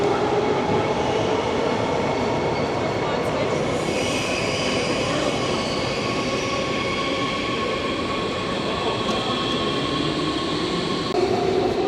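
A German RE1 regional double-deck train pulls away from a station, a loud steady rumble of rolling wheels and rail noise with faint squeals and clatter, continuous throughout with no voices.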